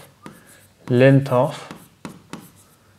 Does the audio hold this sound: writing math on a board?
yes